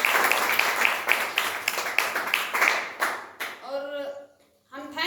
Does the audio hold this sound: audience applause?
yes